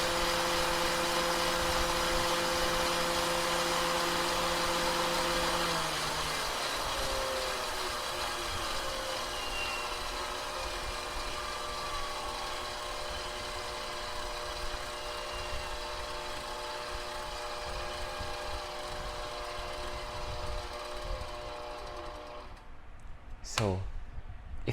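A KitchenAid Professional 6000 HD stand mixer with a DC motor running at top speed, giving a steady, fairly loud motor whine with changing tonal hums, then a quick pitch sweep as it winds down at the end.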